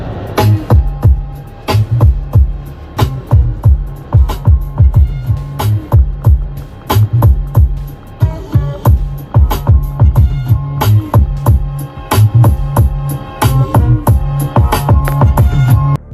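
Loud music with a punchy, rhythmic beat and deep bass plays steadily throughout a BMW M5 saloon's Bowers & Wilkins sound system, full and clear, with no talking.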